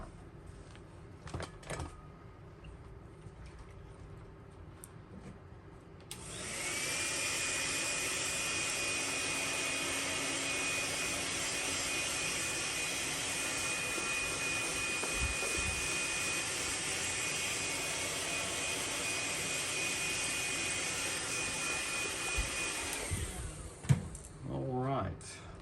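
A heat gun heat-setting paint on a custom S-Crank KO roars on abruptly and holds a steady, loud blowing whine with a faint high tone for about sixteen seconds, then cuts off, with quieter handling sounds before and after.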